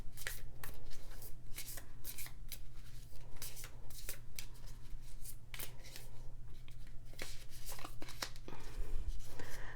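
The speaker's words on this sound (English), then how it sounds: "I'm going to pull 3 cards from this oracle deck for you." Cards being shuffled and drawn from an oracle deck, a continuous close riffle and papery slide with repeated flicks and taps, fairly loud and dense throughout, with no one speaking.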